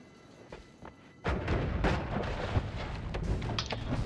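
Repeated blasts from the Giga Saw Blade wand in the game Noita: quiet for the first second, then a dense, loud run of overlapping booming shots and whooshes that continues to the end.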